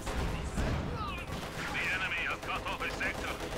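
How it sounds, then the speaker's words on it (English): A StuG assault gun fires in a Company of Heroes 2 1v1 match, blasting a stone wall. Dense, rumbling game gunfire and explosions run throughout, with a commentator talking over them. "The Stug that continues to blast away, leaving little of the stone wall there"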